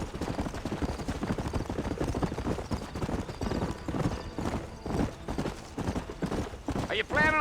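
Hooves clip-clop in quick rhythmic beats as a horse gallops in the Red Dead Redemption video game, loud and close, with a voice talking over the hoofbeats and a brief whinny near the end.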